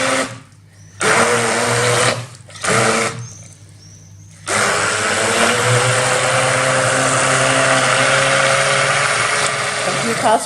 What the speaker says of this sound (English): Go ahead, keep blending.